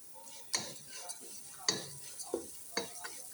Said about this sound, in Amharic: በደንብ ቡኒ እስከሚሆን ድረስ ይታመሳል